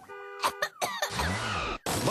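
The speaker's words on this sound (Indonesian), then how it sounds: "batuk," Sharp cough from someone with flu, a few short harsh bursts close up, set within a pharmaceutical advert with music and voice around it.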